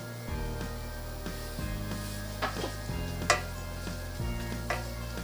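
Leek sautéing in olive oil on medium heat, a steady soft sizzle with a few light clinks and stirring knocks, fairly quiet and close, with a low hum beneath.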